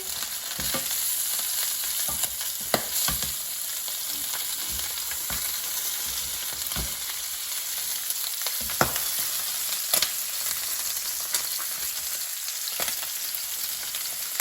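Chicken drumsticks sizzle in a pan with a steady close frying hiss, broken by repeated sharp clicks and scrapes as the pieces are turned.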